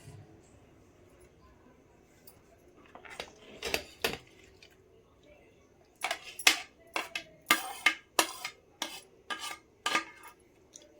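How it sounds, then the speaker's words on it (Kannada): Cut mango pieces dropped into a mixer jar, a run of sharp clinks and knocks, sparse at first and then a quick cluster of repeated taps, close and clear over quiet room tone. "ಇವಾಗ ಮಿಕ್ಸಿ ಜಾರ್ಗೆ ಸೇರಿಸ್ಕೊಳ್ಳೋಣ"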